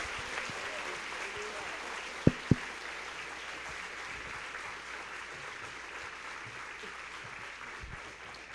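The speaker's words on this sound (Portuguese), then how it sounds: "Você pode dar mais uma salva de palmas bem alto para Jesus?" A church congregation applauds loudly in sustained, dense clapping that fills the whole stretch at an even level, with two sharp louder claps standing out early on.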